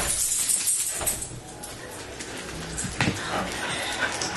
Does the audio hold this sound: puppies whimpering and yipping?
yes